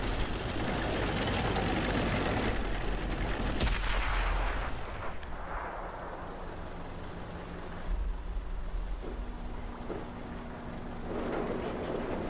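Incoming artillery shell in a World of Tanks battle on Xbox, a sharp heavy blast near the start followed by rumbling engine noise and a low droning tone, loud and fairly close with no talk.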